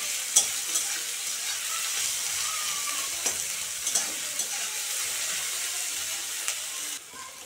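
Onions fry in a pan with a steady close hiss, broken by a few light clicks of stirring, before the sizzle drops away near the end.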